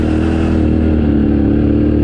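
Yamaha Tenere 700 adventure motorcycle riding over rocky, loose gravel, its engine droning loud and steady at close range with a rough, continuous rumble.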